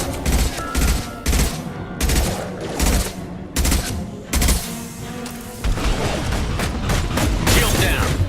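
Rapid bursts of automatic gunfire from the shooter game Mass Effect 2 hammer away almost continuously, loud and close, with brief pauses between volleys and dense layered combat noise underneath.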